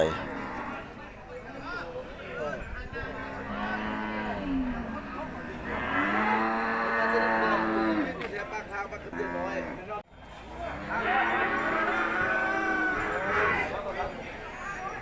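Cattle moo repeatedly at a livestock market in Kusuman, Sakon Nakhon, Thailand, with long drawn-out calls rising over steady crowd chatter and people talking nearby.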